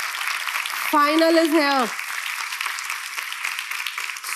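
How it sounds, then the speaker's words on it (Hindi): An audience applauding at a talk, a steady wash of clapping running through the whole clip at moderate loudness, with one voice speaking briefly over it near the start. "तुम जितनी तालियां बजा रहे हो, तुम अपनी थ्योरी के लिए बजा रहे हो"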